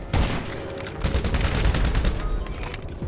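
Rapid video-game gunfire crackles loudly and continuously, with dense overlapping bursts like a fusillade and no pauses throughout.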